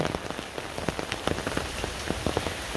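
Steady rain patters on a surface during an unseasonal winter shower in December, a dense even hiss with scattered distinct drop hits, no voices.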